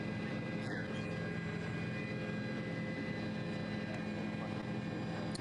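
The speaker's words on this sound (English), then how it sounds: "this is Travis Williams helicopter, and they are over the leaders" A helicopter hovers over the leading trucks in the Baja 1000 off-road race, its engine and rotor a steady, distant wash of noise that holds without pause.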